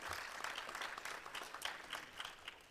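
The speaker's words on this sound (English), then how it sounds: "Can we please give him a clap here?" Audience applause at a conference event in Kenya, steady sustained clapping from a crowd in a hall, moderately distant and even in texture without talk over it.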